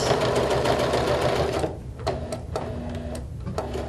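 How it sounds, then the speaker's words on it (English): A sewing machine stitches a seam up to the top of a fabric compartment: a close, steady whirring run, then several short, separate stitching bursts with brief pauses between them. "And then you can just keep sewing until you get to the top of the compartment."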